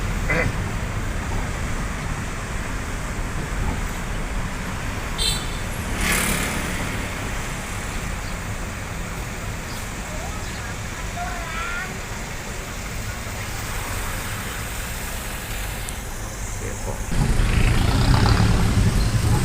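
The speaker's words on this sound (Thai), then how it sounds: "ตอนนี้รถติดมาถึงหน้าตรงนี้เลย" A traffic jam on a road in Kathu, Phuket, hums with idling cars and trucks and occasional passing engines, a steady moderate rumble that swells louder near the end, with someone talking over it.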